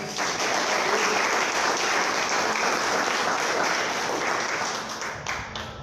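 A church congregation claps in a dense, loud round of applause during a Portuguese-language service. The clapping holds steady for several seconds before fading near the end.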